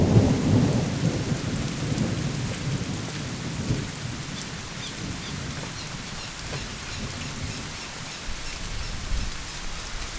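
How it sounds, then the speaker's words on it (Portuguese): Thunder rolls in a low rumble over steady rainfall on a cattle pasture, the storm strongest at first and then settling into a constant patter with softer distant rumbles. "E o trovão rompendo aí, ó."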